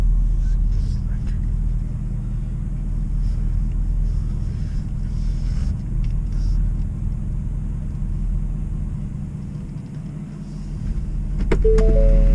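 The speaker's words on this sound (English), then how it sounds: "So just warming up the truck." A 2017 Ford F350 truck warms up in the cold, its engine a steady low rumble idling close by, with a brief mechanical whir near the end.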